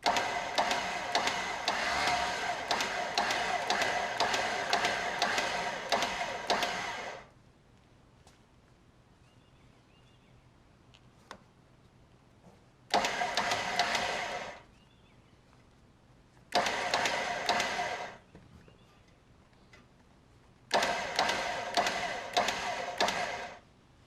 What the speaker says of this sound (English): it lays nice lines as you lay the synthetic rope down onto the drum